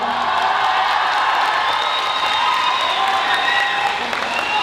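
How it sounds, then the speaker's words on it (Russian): An audience at a KVN comedy show applauds in a loud, sustained burst of clapping mixed with a few cheers, heard without talk over it. "Поддержим аплодисментами."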